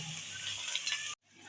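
Onions frying over lowered heat in a pan until golden brown, a steady close sizzle with stirring that cuts off abruptly near the end, then a faint return and a short loud scrape.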